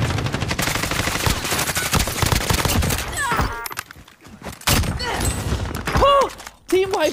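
Call of Duty Warzone gunfire: rapid, loud automatic bursts for about three seconds, then scattered shots and thuds after a brief lull, with voices speaking in between.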